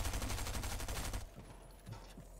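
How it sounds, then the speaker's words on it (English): Rapid repeated shotgun blasts from the long shotgun in Fortnite form a dense, loud volley for over a second, then stop abruptly, leaving quieter game sounds with a few faint thuds. "I have the long shotgun!"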